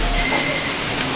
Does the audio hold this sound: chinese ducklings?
no